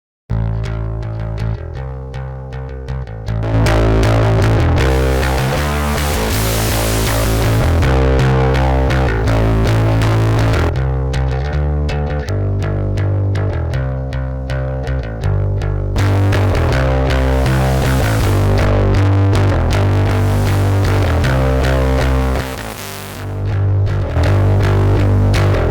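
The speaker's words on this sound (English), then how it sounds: "this is based on iZotope's Trash 2 plugin, which is an incredible distortion plugin" Distorted music processed through an iZotope Trash-style distortion effect in Neutron 4, a loud, dense, continuous track with gritty saturated tones and a steady pulsing beat, briefly dipping near the end.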